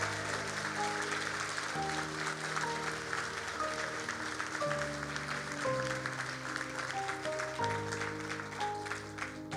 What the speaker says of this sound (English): Let's give our graduates a well-deserved round of applause.